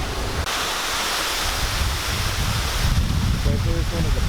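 Rough Caribbean sea waves surge and crash ahead of Hurricane Isaac in St Lucia, a loud continuous roar mixed with gusting wind buffeting the microphone, with a faint voice briefly underneath near the end.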